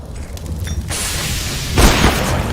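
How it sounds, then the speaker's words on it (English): A flashbang grenade going off in Counter-Strike: Global Offensive, a sharp bright burst that lands on top of ongoing game noise and an earlier hiss, loud and close. "Deploying flashbang."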